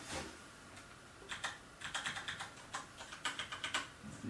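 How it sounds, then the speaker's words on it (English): A computer keyboard on a new Hackintosh setup is typed on, with quick, light key clicks coming in an irregular run, faint and close against a soft background hiss. "The keyboard."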